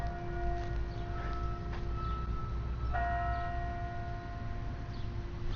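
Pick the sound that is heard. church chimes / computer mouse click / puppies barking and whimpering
church chimes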